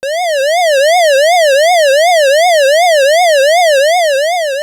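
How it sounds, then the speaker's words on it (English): An 8-bit gaming synthesizer produces a siren effect, a bright buzzy tone rich in harmonics that glides steadily up and down in a regular wail. It sounds alone, loud and sustained throughout, with no talk. "We can create a siren by going up and down."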